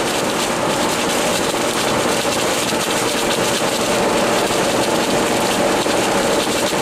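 A vehicle cruising on a highway, with a steady, loud rumble of engine and road noise from inside the cabin that carries on unbroken throughout. No one speaks.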